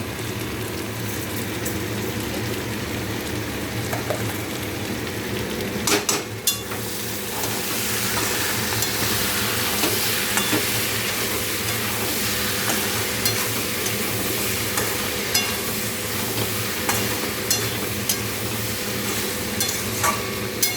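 Spices sauté in a hot pan with a steady, close sizzle, while a spoon stirs and scrapes through the mix continuously for about twenty seconds with a few louder clatters along the way.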